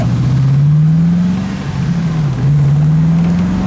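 A Rover V8 car idles steadily, then pulls away and comes to a fairly abrupt stop, its low engine note rising and dipping through a continuous, close, loud drone with no talk.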